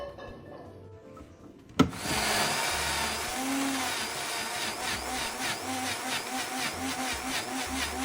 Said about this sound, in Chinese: 接着将切细后食材全部倒入搅拌器